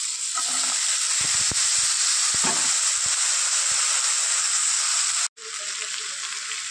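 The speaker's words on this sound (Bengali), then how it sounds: "এবার মাছ ভাজা তেলের মধ্যেই দিয়ে দেবো আলু, পেঁয়াজ, টমেটো" Potato, onion and tomato hit the oil left over from frying fish and sizzle steadily and loudly up close, with a few light utensil knocks near the start.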